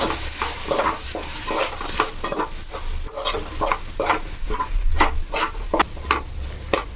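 Vegetable biryani mixture with coriander and mint being stirred in a pot, a steady run of scraping, clattering strokes over a low background rumble, close and fairly loud, with no talking.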